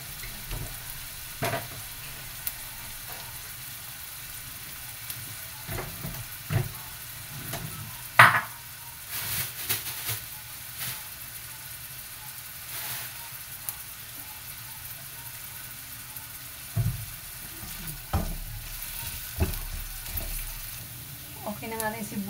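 Onions cook slowly in a pan until translucent, a low, steady sizzle running throughout with occasional utensil knocks and scrapes, and a voice speaking intermittently over it.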